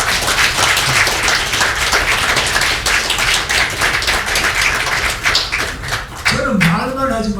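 Seminar audience at a low-birth-rate crisis event clapping loudly and steadily, with a voice breaking in over the applause at the very end.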